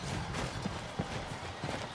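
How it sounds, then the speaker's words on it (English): Horse hooves in Skyrim clip-clop at a walking pace, a run of soft, irregular thuds over steady background noise. "There's my horse."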